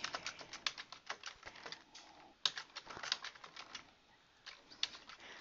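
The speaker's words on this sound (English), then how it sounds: "I'll type a little something." Quick, faint clicks of fingers typing on a computer keyboard while writing a blog post, coming in uneven bursts with short pauses, close and alone.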